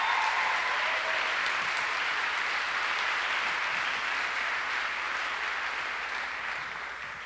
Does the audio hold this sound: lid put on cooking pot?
no